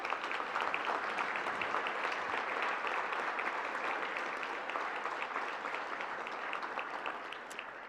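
An audience at a university football awards banquet claps steadily throughout, a dense, even wash of applause heard from a distance at moderate level that tapers slightly at the close.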